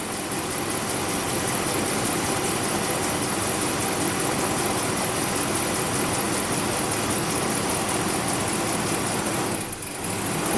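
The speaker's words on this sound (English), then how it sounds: "Truck almost stalls out, runs rough," Ram HEMI truck engine with a P0016 fault, idling loud and rough with a steady dense roar, sagging briefly near the end as it nearly stalls.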